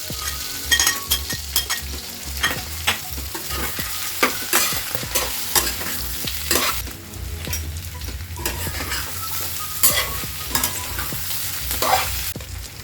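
Garlic and ginger sizzle and fry steadily in a hot pan for a spicy pork pickle, with frequent stirring scrapes and clinks of a utensil against the pan throughout, close up and with no talking.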